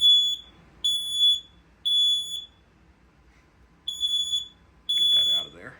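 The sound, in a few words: smoke detector alarm blasts during system test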